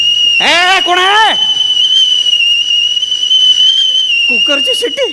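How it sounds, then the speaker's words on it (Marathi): A pressure cooker whistle in a comedy sketch scene, a loud steady high shriek running the whole time while voices squeal and talk over it at the start and end. "कुकरची शिट्टी"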